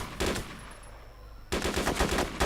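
Rapid bursts of automatic gunfire in the video game Arma 2: Operation Arrowhead DayZ rattle loudly, break off for a moment, then resume in another fast volley.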